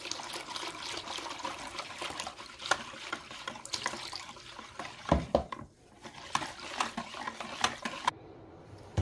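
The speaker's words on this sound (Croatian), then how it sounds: "Sad ću dodati još malo vode." Water is poured and stirred into a flour mixture for sarma, giving splashy, trickling liquid sounds with irregular bursts and clinks that thin out near the end.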